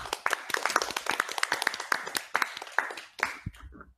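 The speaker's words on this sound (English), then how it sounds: "Just give a quick round of applause." A small group claps in a quick round of applause at the close of an interview discussion, with sharp irregular hand claps near the mic that thin out and stop after about three seconds.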